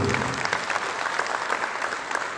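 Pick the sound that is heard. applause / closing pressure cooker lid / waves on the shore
applause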